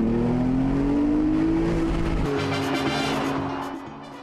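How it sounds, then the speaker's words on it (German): A Porsche 911 GTS Cabrio with its sport exhaust sound system engaged accelerates hard, the engine note rising steadily and loud before a gear change and a fading drone toward the end, with no talking. "wenn ich dann die Auspuff-Soundsystem-Taste drücke, Porsche Soundsystem, dann geht's richtig vorwärts."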